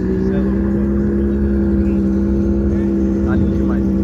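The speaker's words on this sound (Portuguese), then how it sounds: "Olha o ronquinho desse GTR" Nissan GT-R idling at a drag race meet, a steady low engine drone with a strong humming tone held evenly throughout, loud and close, while people chatter nearby.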